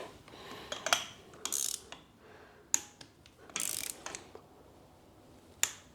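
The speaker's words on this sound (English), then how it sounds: "I just need to fit the new spark plugs quickly" New spark plugs being fitted into a BMW GS engine, with sharp ratchet clicks and metallic tool snaps in irregular short bursts, close and fairly quiet, with no talking.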